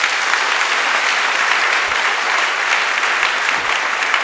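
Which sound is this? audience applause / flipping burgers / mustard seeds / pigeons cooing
audience applause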